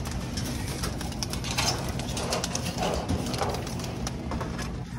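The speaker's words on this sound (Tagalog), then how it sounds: "Mga ibon natin par oh." Pigeons in a loft cooing softly beneath a steady, noisy background, several low murmuring calls at moderate distance with no talking.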